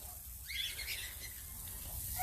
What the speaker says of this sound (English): Take a stroll through the aviary.